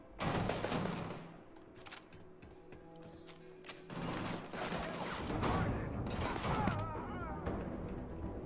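Rapid gunfire from a gun in the Starfield video game, bursts of shots near and loud, pausing briefly midway and then resuming in a long, dense volley.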